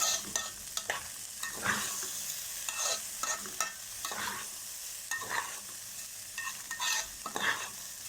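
Rice and vermicelli for Egyptian koshari being stirred and tossed in a hot pan, with a steady sizzle and repeated scraping strokes at an even rhythm.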